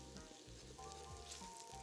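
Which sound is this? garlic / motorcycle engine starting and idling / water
garlic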